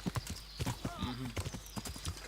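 Horse hooves clip-clop in a rhythmic walking gait within the medieval video game Kingdom Come Deliverance, close and distinct, with a brief whinny-like tone partway through and game ambience underneath.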